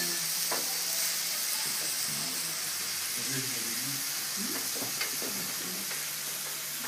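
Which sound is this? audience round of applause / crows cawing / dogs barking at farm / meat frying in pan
meat frying in pan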